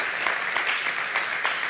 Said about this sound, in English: And so go ahead, clap.